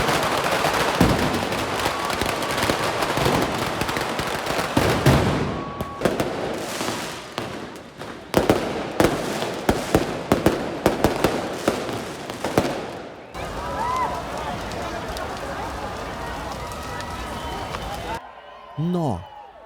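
Fireworks burst over a festival in Alicante, Spain, in rapid crackling volleys and sharp bangs, some dense and overlapping, with gaps of quieter crowd noise between them and voices talking throughout.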